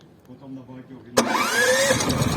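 A Senci SC9000I 8 kW inverter generator starts by remote key, quiet murmur giving way to an abrupt start and a steady, rising engine drone, heard from a short distance.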